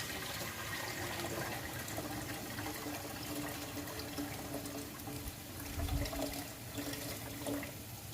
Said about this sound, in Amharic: እንግዲህ እዛ ጋር ውሃ ጨምሬያለሁ።